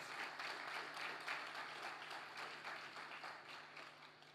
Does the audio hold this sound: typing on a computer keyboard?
no